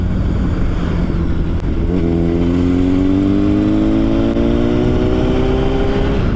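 A motorcycle with over 170 brake horsepower accelerating hard, its engine note climbing steadily in pitch with a loud, continuous drone heard close from the rider's position, under constant wind rush.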